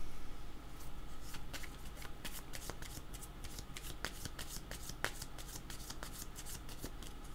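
Tarot cards being shuffled by hand, a steady run of crisp riffling flicks and soft card slaps, close and fairly quiet, with no one speaking over it.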